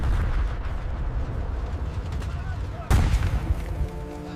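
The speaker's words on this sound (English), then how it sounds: "Tank fire continues to clear the path for the infantry." Tank fire and artillery during a 1942 desert battle at El Alamein: a continuous heavy rumble of battle with booming blasts, and one sharp, loud detonation near the middle, followed by ringing debris.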